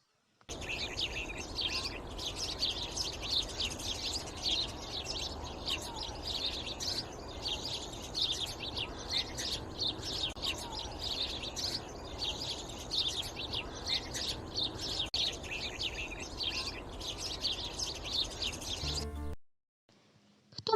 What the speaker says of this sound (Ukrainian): Дітки, послухайте, як цвірінькає горобчик.